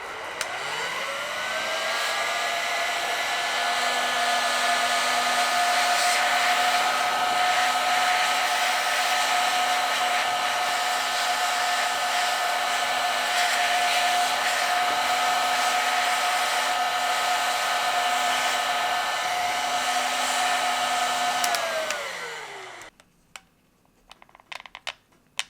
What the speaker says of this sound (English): Now we put on the heat shrink here. And take a heat gun.